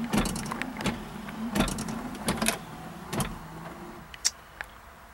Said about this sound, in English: Gas gauge and the wiper controls, which are working as they should.